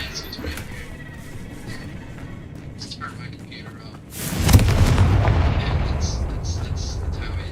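A Confringo spell explodes in the video game Hogwarts Legacy, a sudden booming blast midway that trails into a rumbling, crackling tail, while a person talks over the game's ambient sound beforehand.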